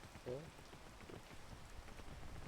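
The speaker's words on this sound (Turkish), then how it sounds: "Yağmur yağıyor." Rain hisses steadily at a low level in the game PEAK, soft and continuous, with a faint brief tone near the start.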